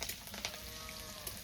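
Panch phoron five-spice with dried and green chillies hits hot oil in a home kitchen at the start of a shol fish curry, giving a steady close sizzle and crackle with scattered sharper pops and no talking.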